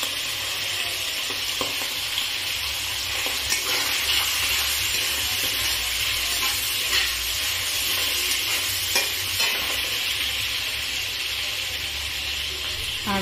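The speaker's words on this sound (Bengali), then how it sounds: "রসুনটা দিলে একটু চিকেনটা ভাজা ভাজা হবে" Chicken fries with garlic in a pan for mixed fried rice, a loud continuous sizzle with stirring scrapes, close and steady with no talking.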